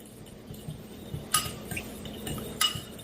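Balsamic honey glaze with garlic and onion powder being mixed in a bowl, a utensil giving soft scraping stirs and two brighter clinks against the dish, fairly quiet with no talk.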